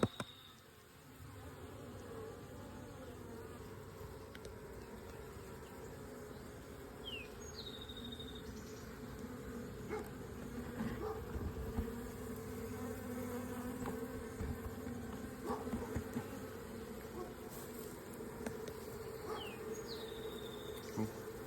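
A honey bee swarm buzzes around a trailer tire outdoors, a steady, dense hum filling the whole span with individual bees passing close now and then and faint bird calls in the background.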